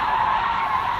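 Car tires skid and squeal as the throttle is punched on turn-in, a loud, steady screech that fills the whole moment without a break.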